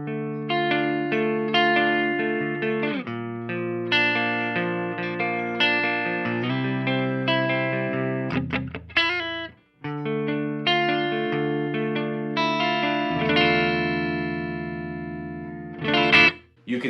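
Electric guitar played through a Mesa Boogie Badlander amplifier with the gain turned up high yet staying clean, ringing chords and picked notes in a steady run with two brief pauses, loud and alone.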